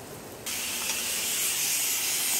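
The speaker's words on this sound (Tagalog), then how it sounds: "Ngayon, kumukulo na ang tubig natin." Water at a rolling boil in a cooking pot, seasoned with salt and oil before the rice goes in for meat biryani, gives a steady bubbling hiss that swells suddenly after a quieter start and holds close and even.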